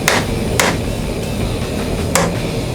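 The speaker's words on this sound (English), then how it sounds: "I'm gonna get hammering." Three sharp hammer strikes on hot steel while hand forging a knife, spaced irregularly over a steady background hum, fairly close and loud.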